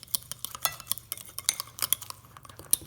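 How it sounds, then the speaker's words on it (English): A spoon works sorghum flatbread dough mixed with a little tapioca in a bowl, giving quick, irregular clinks and scrapes up close with no voices. "This you mix together real well, and it should be sort of like a cookie dough texture."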